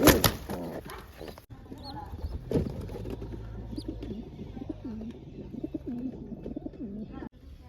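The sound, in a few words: pigeons cooing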